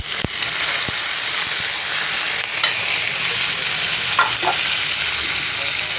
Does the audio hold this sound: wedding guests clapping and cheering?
no